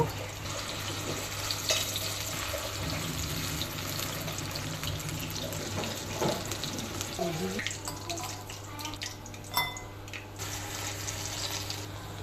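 Onion pakora batter is spooned into heated oil, giving a steady, even sizzling hiss over a low hum that runs throughout, with a few brief clatters and splashes partway through.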